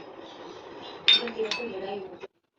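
Ingredients for bajra methi vada being mixed in a bowl: a spoon clinks and scrapes against the bowl in a few close, light knocks, with a soft muffled stirring before and after.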